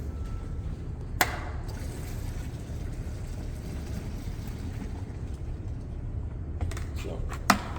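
Hot water from a bucket heater runs into a 5-gallon pail with a steady, continuous rushing pour that lasts throughout, broken only by a couple of sharp knocks near the start and end.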